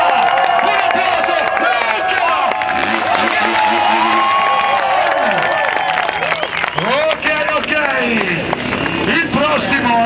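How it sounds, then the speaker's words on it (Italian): A crowd cheers and applauds at a freestyle motocross best-trick event, loud and dense, with whistles, shouts and an announcer's voice over it. "Facciamoci sentire, forza, forza! Un applauso,"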